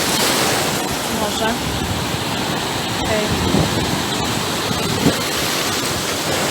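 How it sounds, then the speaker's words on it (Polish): Steady roar of Baltic Sea surf crashing close by at Mielno, Poland, off season, a constant wash of noise with a few brief voices faintly underneath. "fale są tutaj dość mocne"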